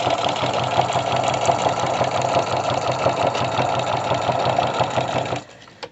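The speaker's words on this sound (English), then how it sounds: "watch what this machine does with leather. And you hear how quiet it sews on leather?" A sewing machine stitches through real leather in a steady, fast mechanical hum with a regular rapid knock, close and continuous, then stops abruptly near the end.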